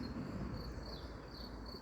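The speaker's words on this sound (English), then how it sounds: "I think there's a lot of crickets. You can probably hear them." Crickets chirp outdoors on a quiet evening, a faint, steady high trill that pulses in short repeated bursts with no other sounds over it.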